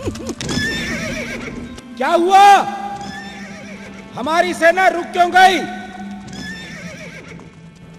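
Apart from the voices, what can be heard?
horses neighing and hooves clip-clopping, audio drama effect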